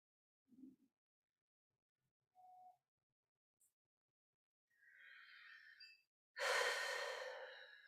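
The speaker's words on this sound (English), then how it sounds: "And two more breaths here." Slow breathing during a deep yoga stretch, with a few separate soft breaths and sighs spaced apart, ending in a longer, louder exhale, close and quiet with no talking.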